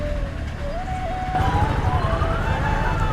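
An ambulance siren wails in rising and falling sweeps through a traffic jam on the road near a river ferry ghat, over a steady hum of vehicles.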